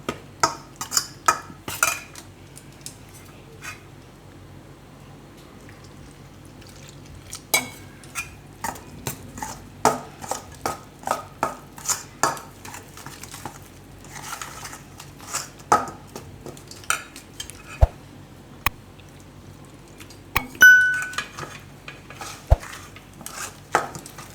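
Chilli bhajiya batter being mixed with water and salt in a bowl, a long irregular run of soft scraping clinks and taps, close and fairly quiet, with occasional sharper knocks.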